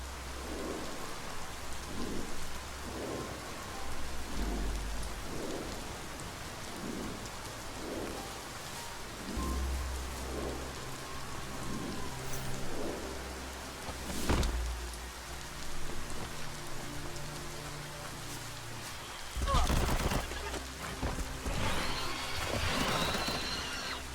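Steady rain in the video game Biomutant pours throughout with occasional rumbles of thunder, a loud crack near the end, and some rhythmic low thumps beneath the downpour.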